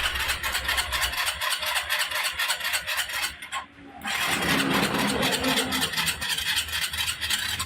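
A Suzuki Skydrive motorcycle engine with a starting fault cranks briefly on the push-button starter, pauses for a moment, then fires up and runs with a loud, rough, steady rasp.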